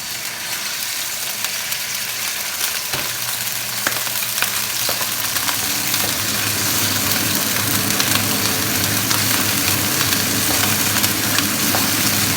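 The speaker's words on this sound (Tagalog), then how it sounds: "Unahin natin pagluto yung ating karning baboy" Pork meat frying in a pan for ginisang sitaw, a steady crackling sizzle that stays even and close for the whole stretch, with a low hum running underneath.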